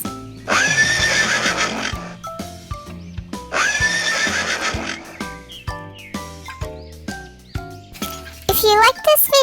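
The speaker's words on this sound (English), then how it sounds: "Horse. Horse." A horse gives a couple of loud, close neighs and whinnies, separated by short clip-clop and other sounds.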